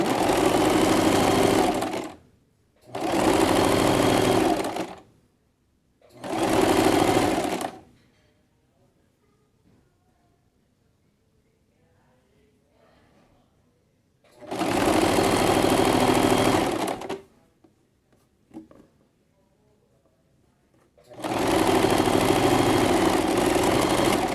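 Sewing machine stitching a fabric hem with backstitches at the start and end, in several loud bursts of steady motor hum separated by quiet pauses.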